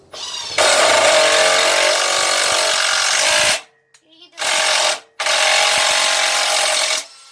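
A corded, non-brushless Bosch impact driver hammers loudly in a tool comparison test, two long rattling bursts of driving separated by a short pause, up close with no talk over it.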